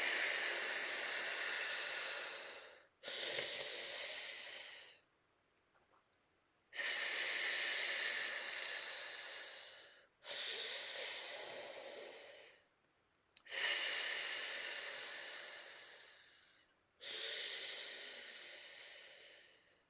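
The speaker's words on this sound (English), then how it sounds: "Breathing in." Slow, deep breaths from qigong practice come one after another, each drawn-out airy hiss lasting a few seconds and separated by short silences, close and quiet with no talk.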